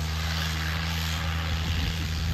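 Close and loud, the engine of a John Deere 5210 tractor at a Jhajjar tractor pulling contest runs in a constant low, throbbing roar with no break.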